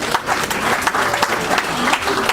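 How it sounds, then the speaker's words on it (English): Audience at a book launch lunch clapping briefly and steadily for a writer, dense and close. "Let's clap for you one more time."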